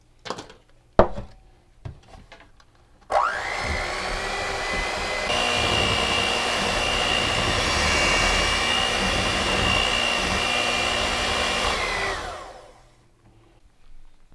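Electric mixer beating buttercream icing thinned with a little milk in a home kitchen, a steady loud whirring drone that starts abruptly after a few clicks, runs evenly for about nine seconds, then winds down.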